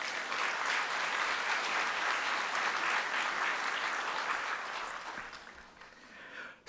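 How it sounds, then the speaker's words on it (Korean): A church congregation at a Sunday service gives hearty, sustained applause to welcome a visiting professor, dense and even for several seconds before fading out at the end. "우리 교수님 나오실 때 우리 힘찬 박수로 모시겠습니다"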